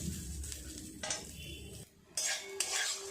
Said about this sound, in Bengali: একটু লাল লাল করে ভাজবো, খুব বেশি ভাজা করার দরকার নেই